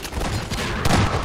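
Gunfire from a weapon in the Half-Life 2 video game, a loud burst of shots with a sharp crack near the end, over a busy game soundscape.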